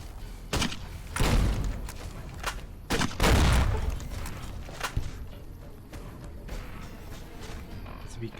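Gunshots ring out in Fallout: New Vegas, several loud booming shots and thuds in irregular succession, then fading into quieter ambience.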